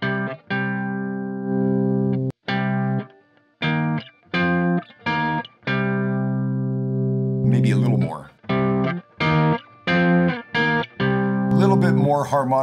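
A heavily distorted electric guitar plays short chopped chords and notes through an amp, with gritty, buzzing overtones and brief silences between phrases.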